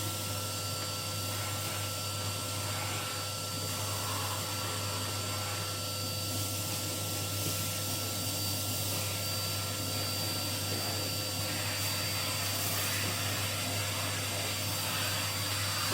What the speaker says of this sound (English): we just hoover this bit up here